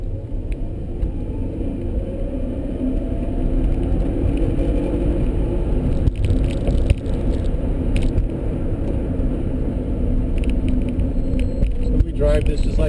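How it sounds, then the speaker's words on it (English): An electric-converted car with an upgraded DC controller drives along a highway, giving a steady low road rumble and tire noise with a faint whir inside the cabin throughout. "So we drive this just like any other car."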